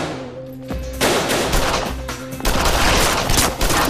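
Loud bursts of gunfire crack out in close succession, several sharp shots and rapid volleys packed into a few seconds with no talking over them.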